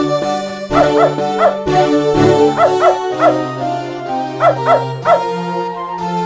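Spunky the dog from the 1994 game Beneath A Steel Sky gives a run of short, clear yips and barks in rhythmic pairs over a steady synthesized game music bed, fairly loud and close.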